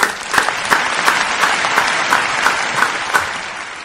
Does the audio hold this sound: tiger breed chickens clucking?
no